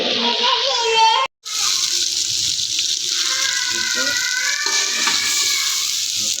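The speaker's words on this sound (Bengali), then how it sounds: "পেঁয়াজটা একটু হালকা ব্রাউন কালার করে ভেজে নেবে চালটা দিয়ে ভেজে নেবে" Rice fries with onion and spices in a pot, giving a loud, continuous sizzle and stirring close by, briefly cut out once, while a voice talks over it.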